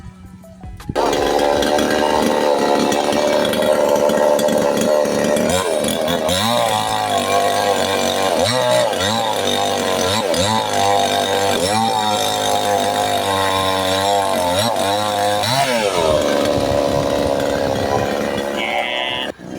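A chainsaw cuts firewood outdoors, its loud engine revving and dropping in repeated surges as the chain bites through logs, running almost continuously with brief idles near the start and end.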